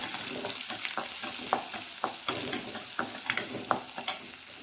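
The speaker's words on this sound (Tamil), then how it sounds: "வெங்காயம் எல்லாம் போட்டு நல்லா வதக்கணும்" Onions sautéing in oil in a pan, a close, steady sizzle broken by regular scraping strokes of a spoon every half second or so, with no voices.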